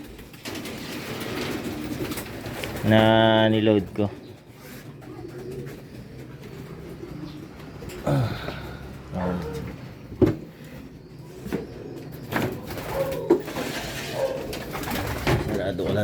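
A pigeon's cooing call rises clearly once during pigeon training, then birds chirp faintly in the background while a person talks nearby.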